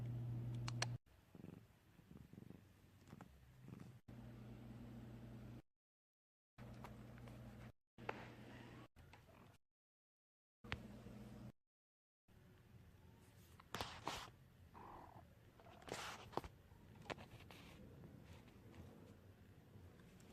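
A mother cat with days-old kittens purrs softly and steadily close to the microphone, a faint low rumble broken by gaps of silence and occasional rustling or handling noises.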